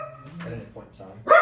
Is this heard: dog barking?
yes